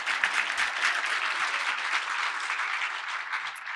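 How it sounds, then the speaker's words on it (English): Audience applause fills an awards ceremony hall, a steady, dense clapping from many hands that holds at an even level throughout with no talk over it. "Let's give them a round of applause."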